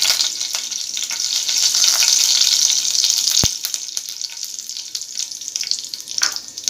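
Onion leaves and potatoes frying in a pan give a loud, steady sizzle that drops a step partway through and then continues more softly, with scattered crackles and pops.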